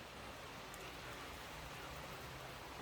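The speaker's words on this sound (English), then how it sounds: "And there's the rain coming down." Rain pours steadily outside a window in the Philippines, a dense, even hiss of drops on surfaces, soft and continuous with no voices.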